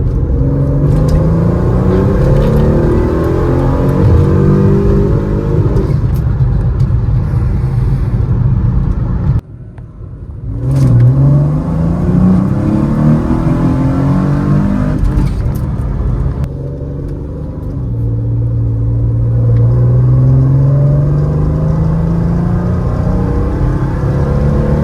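A Mercedes C32 AMG W203 running on E85 fuel, revved repeatedly from about 2,500 RPM: loud close engine roar climbing in pitch in several sweeping pulls, with brief drops between runs and a rising surge near the end.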